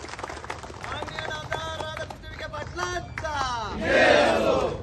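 A crowd at a political speech event roars and cheers for the guardian minister, with shouting voices that build into a loud, sustained burst of crowd noise near the end.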